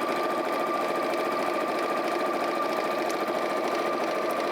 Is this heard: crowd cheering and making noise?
no